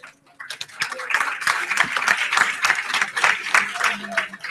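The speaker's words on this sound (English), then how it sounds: "Now let's have a huge round of applause for such an astounding Korean movie" Clapping from an audience at a student international film festival after a Korean film screening, a dense steady round of applause with crowd voices mixed in over it.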